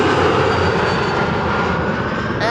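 An Embraer 175 airliner lands at Amsterdam Schiphol, its engines a loud, broad, steady roar close by that eases slightly toward the end.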